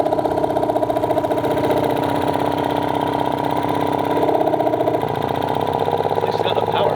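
An old 20-year-old outboard motor runs hard at full throttle, a loud, steady buzzing drone with a fast ticking pulse that holds for the whole stretch, with no voice over it.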